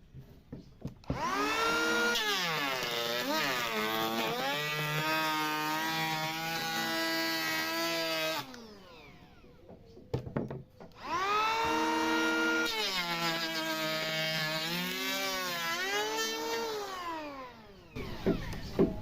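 A cheap battery-powered Mollar wood planer cutting about 2 mm deep into wood: a loud, high, whining motor rises and wavers through one long pass, drops briefly, then runs through a second long pass.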